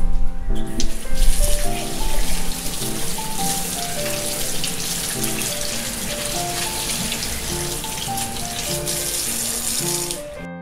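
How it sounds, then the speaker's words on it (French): A running tap pours steadily as hands are rinsed under it, a close, continuous hiss of water spattering in a sink that stays even for about ten seconds before cutting off, with music playing underneath. "Ensuite, on rince."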